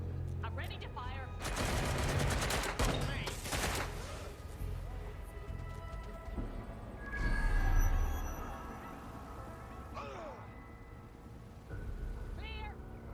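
Gunfire in the Watch Dogs video game, with a dense burst of rapid shots and a few shorter volleys over a steady game soundscape, while a voice speaks at times.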